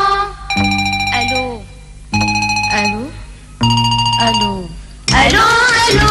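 Telephone ring effect inside an Arabic pop song, sounding as three loud repeated ringing bursts over the music, each about a second long, before the singing returns.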